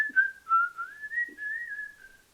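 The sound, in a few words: person whistling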